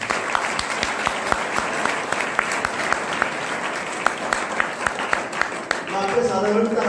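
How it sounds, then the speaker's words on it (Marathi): Hearty audience applause at a district talent hunt and poster competition prize ceremony, a dense sustained clapping with sharper individual claps standing out, continuing for several seconds before fading under a voice at the end. "आपणास विनंती करतो की स्वतःसाठी इथं जोरदार टाळ्या वाजवा"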